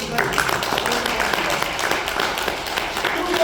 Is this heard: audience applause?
yes